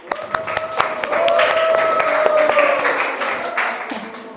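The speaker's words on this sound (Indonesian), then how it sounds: "Kasih aplaus dulu untuk kelompok 6." Classroom audience applauding a student group, a burst of many hands clapping that swells and holds steady before tapering, with some talk underneath.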